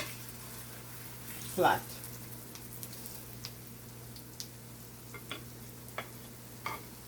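Ripe Jamaican plantain fritters fry in a pan with a soft, low sizzle, broken by a few light ticks and one brief louder clatter, while someone talks over it.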